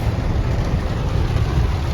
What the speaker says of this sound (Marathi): एवढा पाऊस आहे बघ